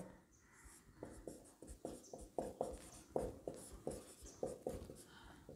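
A maths answer is written out by hand, with quick, close scratchy pen strokes on paper in short rhythmic bursts that repeat steadily, quiet and alone.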